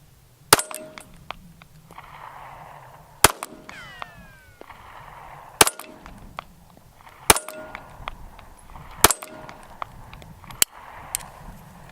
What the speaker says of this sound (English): So you can shoot at any of the 3 steel targets you've got.